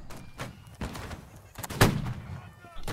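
Gunfire in the video game Holdfast: Nations at War, several sharp shots at irregular intervals, one louder report standing out among fainter cracks and background game noise.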